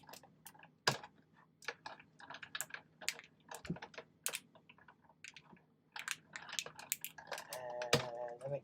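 An old, flattened beer can crinkles as it feeds through a machine: faint, irregular crackles and ticks in quick bursts, close by and fairly quiet.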